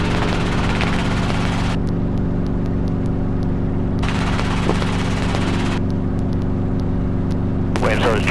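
Helicopter flying steadily through a training lesson near an airfield approach, its constant rotor and engine drone filling the whole clip at close range while a pilot's radio call sounds over it.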